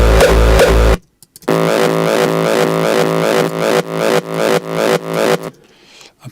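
Reversed kick drum tail with added sub, built up in electronic music production: a heavy booming kick, a short gap, then a run of swelling reversed hits that rise and cut off abruptly, repeating in a steady pulse.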